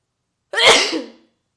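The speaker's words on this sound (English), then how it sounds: "You know it's springtime by sneezing." A single loud sneeze bursting out close by after a moment of silence, fading quickly.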